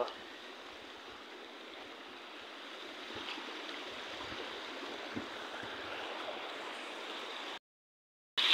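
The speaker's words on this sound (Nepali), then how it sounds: "खोलो सुसाएको अवस्था छ।" A river roars with flowing water as a steady broad rushing wash at moderate distance, with no talking, before the sound cuts out briefly near the end.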